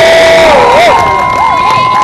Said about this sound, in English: Now give them another big round of applause.